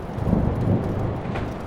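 A thunderstorm in a video game gives a steady, loud, broadband rumble with a wash of rain. The deep roll of thunder keeps on for the whole stretch, with no voices over it.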